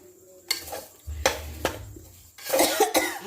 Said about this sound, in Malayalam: എനിക്ക് ചെറിയ ചുമയുണ്ട് ജലദോഷം കഴിഞ്ഞപ്പോൾ ചുമയുണ്ട്